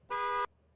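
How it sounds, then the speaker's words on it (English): A single car horn honk used as a sound effect: one steady, bright blare lasting about a third of a second, clean and alone against near silence. "Please play the car honk noise."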